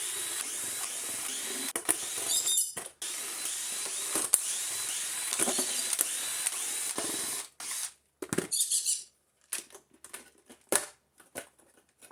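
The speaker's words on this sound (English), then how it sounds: "we're going to have to take all of the screws out of the whole thing" Screws being driven out of a vacuum cleaner base with a power driver, a series of whirring drill bursts with short pauses between, then quieter clicks and handling noises.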